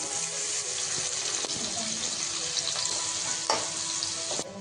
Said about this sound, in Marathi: आता यामध्ये ना आपण 2 पळी तेल टाकू. पहिला कांदा ना आता कांदा आपण भाजून घेऊ.